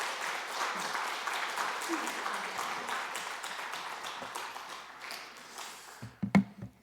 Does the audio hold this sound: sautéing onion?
no